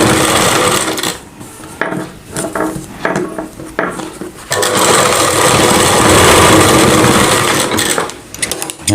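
A sewing machine stitching a Rajputi kanchali blouse, loud close mechanical whirring in short stop-start bursts, then a longer continuous run before slowing and stopping.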